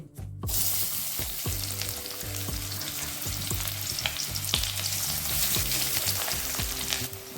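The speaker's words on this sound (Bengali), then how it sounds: "তেলটা গরম হয়ে এসছে এবার দিয়ে দেবো একটা পেঁয়াজ আমি কুচি করে রেখেছি" Chopped onion dropped into hot mustard oil, a loud steady sizzle with rhythmic stirring scrapes and clinks against the pan, close up and uninterrupted with no talking.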